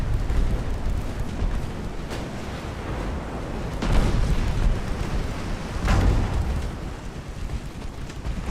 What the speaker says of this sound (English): Gotta love the sound of that broadside going off.